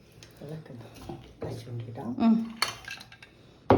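A spoon clinks and scrapes against a glass while stirring a fruit smoothie, several short metallic taps close by, interleaved with a person talking.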